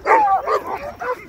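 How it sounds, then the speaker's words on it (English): Big, strong sled dogs around 95 pounds barking and yipping in short excited bursts close by, with a few whimpering tones between barks. "My strongest dog team right here, these big bruisers at 95 pounds."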